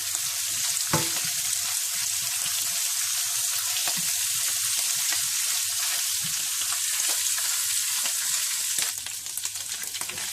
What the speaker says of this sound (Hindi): और साथ ही आप इसमें साबुत जीरा डाल दें और थोड़ा सा भून लें।